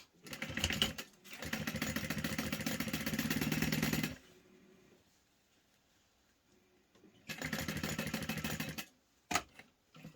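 A sewing machine stitches around the sides of a fabric portable game console case, running in two bursts of steady, close mechanical whirring separated by a quiet pause, with a few brief clicks at the end.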